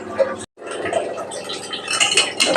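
A utensil stirs thick ragi porridge in a pot with close, busy scraping and clinking against the metal, a brief gap near the start, then steady, vigorous mixing.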